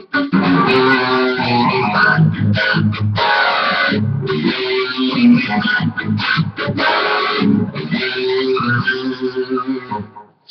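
Distorted electric guitar runs through a sped-up take on a riff, loud and continuous with short choppy breaks between chord stabs.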